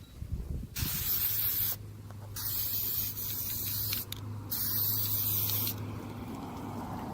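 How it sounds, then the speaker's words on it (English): High temp paint sprays from an aerosol can onto cleaned stock brake calipers in four close, loud hissing bursts separated by brief gaps. "See, I won't spray directly on the boot."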